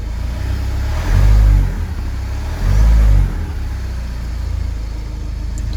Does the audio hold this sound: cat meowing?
no